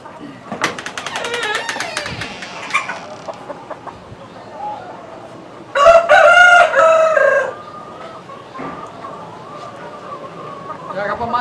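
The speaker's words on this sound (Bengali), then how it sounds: "অনেক সুন্দর মুরগিগুলা" A rooster crows loudly once, with 20-month-old tiger-breed chickens clucking and people talking before and after the crow.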